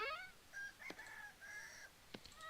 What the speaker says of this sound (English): a rooster